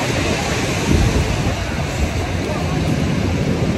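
Ocean waves at Myrtle Beach roll in as a steady, loud broadband wash of surf, mixed with wind buffeting the microphone, with no distinct break or pause.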